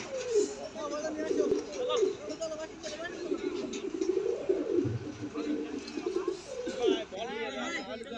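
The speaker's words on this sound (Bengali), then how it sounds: "এটা 42 দমের একজোড়া কবুতর" A pair of pigeons offered for sale coo in soft, repeated throaty phrases nearby while someone talks over them almost throughout.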